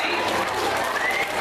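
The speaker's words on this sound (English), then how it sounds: "Give them both a great big round of applause." A middle school show audience claps for two performers, a dense, steady round of applause filling the whole short moment at close range.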